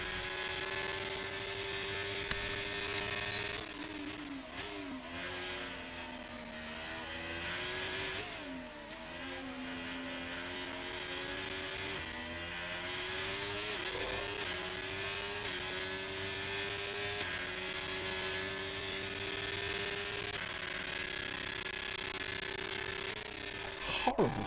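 A Ferrari Formula 1 car's engine in a racing video game at a Great Britain round, a continuous loud whining drone that rises and falls with gear changes and revs throughout, with no talk.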